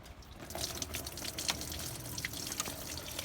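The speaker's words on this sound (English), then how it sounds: "take this lower hose off and drain whatever remaining coolant's" Coolant draining from the lower radiator hose of a Jeep with a cooling-system leak, a steady close trickle with scattered drips splashing throughout.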